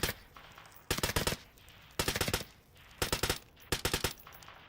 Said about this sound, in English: Alright, testing the fire rate. Full auto.